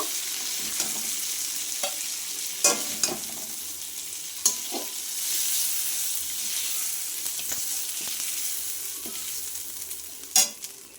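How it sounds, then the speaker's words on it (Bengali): Prawns fry in hot oil in a pan, giving a continuous close sizzle broken by a few sharp clinks and scrapes of a utensil. "চিংড়ি মাছটা ভাজা হয়ে গেছে এবার তুলে নেব"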